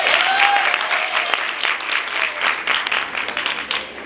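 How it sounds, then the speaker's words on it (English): A university crowd at an Africa Day celebration gives a round of applause, a dense, sustained clatter of many hands with a few sharper claps standing out. "Round of applause for yourself."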